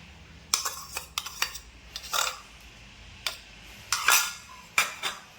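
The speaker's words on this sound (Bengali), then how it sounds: "আমার ম্যাশ করা হয়ে গেছে, আলু, ডিম, পেঁয়াজ সব কিছু মিলিয়ে।" Potato, egg and onion being mashed together in a bowl, heard as a few sharp clinks and scrapes of a utensil against the bowl in irregular bursts, close and fairly quiet, with no talking.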